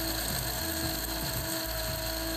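An electric coffee grinder whirs steadily at close range with a high, even motor drone that runs the whole time, fairly quiet and without voices.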